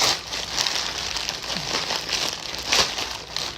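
Close, continuous crinkling of plastic packaging, rustling steadily with occasional sharper crackles.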